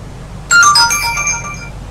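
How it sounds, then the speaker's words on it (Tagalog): A phone chimes with a text-message alert, a short bright run of rising melodic tones that rings out loud and clear over a quiet room, then fades away with no talking. "Patawad at may nagte-text."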